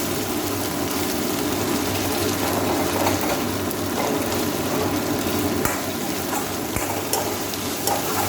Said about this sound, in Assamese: অলপমান ফ্ৰাই কৰি লওঁ মছলাটো।